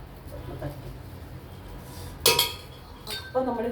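Masala dosa batter is spread on a hot pan with a ladle, giving soft scraping followed by two sharp metallic clinks of taps, and a voice is heard briefly at the end.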